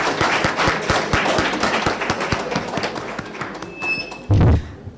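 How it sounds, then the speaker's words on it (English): Applause at the end of an academic symposium on English language teaching: a dense, steady patter of many hands clapping, loud and continuous, with a brief thump near the end. "Could we please give ourselves a round of applause?"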